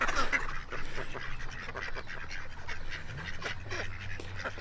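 Ducks quacking and honking in a park, a cluster of close nasal calls at the start fading into scattered quacks over soft outdoor background noise.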